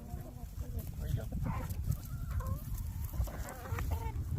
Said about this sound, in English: Chickens are going nuts.